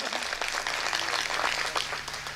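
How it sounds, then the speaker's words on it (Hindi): Audience at a Hindi comedy poetry recital (hasya kavi sammelan) breaks into sustained, dense applause, a steady wash of many hands clapping that fills the space with no voice on top. "ताली बजाइए, एनर्जी मिलती है।"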